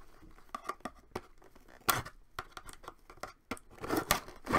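Repeated sharp snips and tearing crinkles of a steak knife cutting open plastic packaging on a Blue Yeti microphone box, irregular bursts close by with no talking.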